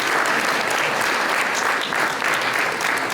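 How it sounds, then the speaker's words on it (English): Dinner guests at the Boyertown Area Progress Dinner give sustained applause for the silver sponsors, a dense, even wash of clapping from a large crowd, loud and continuous throughout. "Give a round of applause to our silver sponsors."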